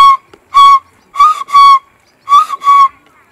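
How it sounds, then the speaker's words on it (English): A horn in a Luo founding legend sounds five short, clear tonal blasts: one toot, then two close pairs, loud and near with brief silences between, and no talk. "If you hear the sound of this horn"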